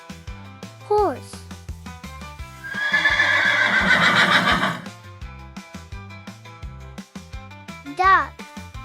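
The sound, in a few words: horse neighing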